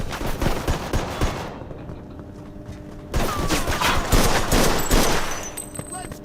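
Rapid gunfire rattles through a Mafia 2 shootout, with dense overlapping bursts that break off briefly and then resume heavier, close and loud, with voices faintly in the mix.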